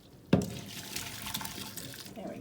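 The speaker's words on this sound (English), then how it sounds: "we're going to pour off all of that water, the cooking water, so the potatoes are done" Potato cooking water is poured from a pot into a strainer in a kitchen sink: a sudden loud splash, then a steady rushing, gurgling pour that continues throughout, close by.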